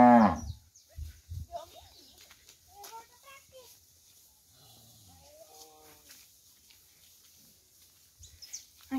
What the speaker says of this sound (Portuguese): 23 vacas, gente, ó.